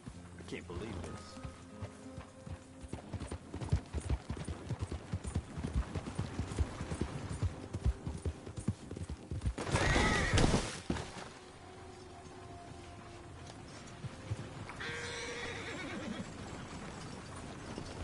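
A horse in Red Dead Redemption 2 clip-clops along at a steady trot, hoofbeats fairly close, with a louder burst midway and a brief whinny-like cry near the end, while someone talks over it at times.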